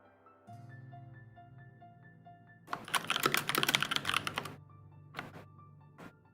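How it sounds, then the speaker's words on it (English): Someone typing on a computer keyboard during a StarCraft casting break, a brief flurry of fast clicking keystrokes, then a few isolated taps, over a steady tonal hum and a soft repeating beep. "I think he's busy typing."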